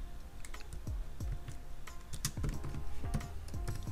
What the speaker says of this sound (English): so you can type that in here.